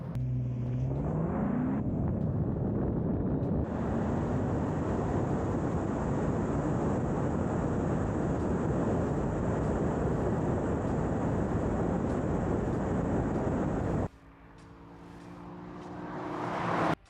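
A Lexus IS500 and an Infiniti Q50 launch in a drag race, one loud sustained engine-and-wind roar rising after a brief rev and cutting off abruptly near the end, with no speech.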